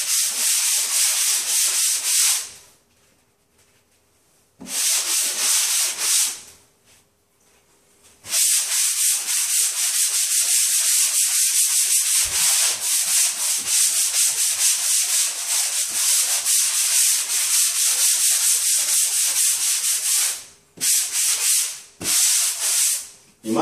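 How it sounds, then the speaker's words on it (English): Drywall compound being hand-sanded with 120-grit sandpaper, a steady close scratchy rubbing that stops for a few seconds twice and then runs on in long continuous strokes. "Now I'm going to sand with 120,"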